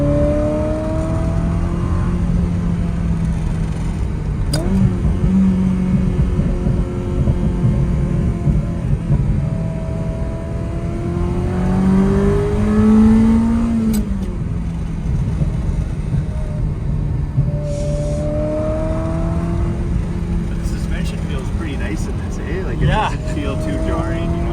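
Ferrari F355 Challenge engine rising and falling through several revs while driving on a road, heard from inside the car under steady cabin noise, with people talking over it.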